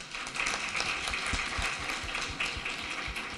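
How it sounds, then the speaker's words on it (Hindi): Engineers at a water conservation conclave in Rajasthan break into applause, a dense crowd of clapping hands sustained steadily throughout with a few sharper claps standing out near the front. "तो पहले अपने आप के लिए तालियां बजाएं।"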